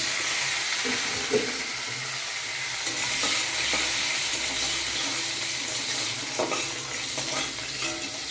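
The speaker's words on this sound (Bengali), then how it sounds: "মাছটা তো ভাজা হয়ে গেল অলরেডি আলু ভেজে নিচ্ছি" Continuous hissing sizzle of potatoes frying in a pan, close up, with scraping stirs and a few light knocks throughout.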